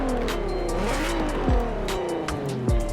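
A VW Golf R32 MK4 with a naturally aspirated V-block engine in Forza Horizon 4 revs close and loud, pitch climbing and dropping with several sharp swoops during gear changes.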